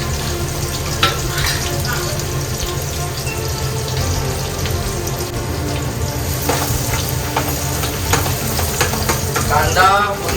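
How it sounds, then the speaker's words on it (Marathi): Onion dropped into hot oil in a home kitchen kadai after garlic tested the heat: loud, continuous close sizzling and crackle throughout, with faint clinks and background household noise. "आता कांदा टाकूया याच्यात"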